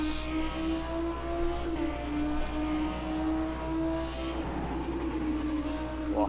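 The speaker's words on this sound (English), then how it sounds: "You got to love that exhaust sound. That exhaust note is just spot on." A Lamborghini Super Trofeo race car's exhaust note in the Project Cars racing game: a steady, buzzing high-revving engine drone that shifts pitch slightly near the end, heard alone without talk.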